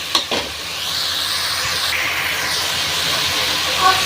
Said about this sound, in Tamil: எல்லாத்தையும் போட்டு கொஞ்சம் எண்ணெய் ஊற்றி வதக்கி வைங்க